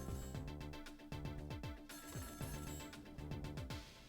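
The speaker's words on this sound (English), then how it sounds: "Uh-oh, phone's off the hook." Electronic telephone ringing in the video game Ghost Trick: Phantom Detective, a repeating patterned ring tone in steady bursts over game music, loud and close throughout.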